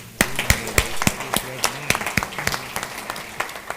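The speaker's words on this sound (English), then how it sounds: "Another round of applause." Audience applause at a San Bernardino city event, a crowd clapping in a dense run of sharp claps that fade slightly toward the end.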